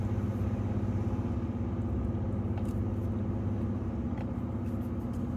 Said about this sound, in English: If you can hear that engine, we're in tow haul mode in a V6 F-150, 2016.